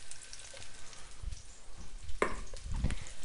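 Faint sizzling of onion frying in a hot pan, with a few soft clunks and scrapes of cookware.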